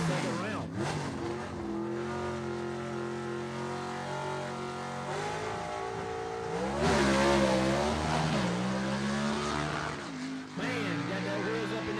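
Gasser-class drag racing car on a competition single run at Gulfport Dragway, its engine roaring loud and sustained with rising revs and gear changes, with a commentator talking over it.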